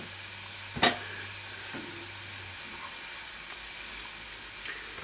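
A sauce reducing in a pan as part of a bison skirt steak saltimbocca sizzles and bubbles steadily at a low, even level, with one brief sharper clatter near the start.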